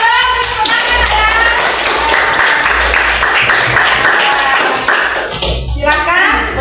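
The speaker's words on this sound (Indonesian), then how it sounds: "tepuk tangan, ya" A classroom group claps after a student presentation, a dense, even patter of hands that stays steady throughout with no voices over it.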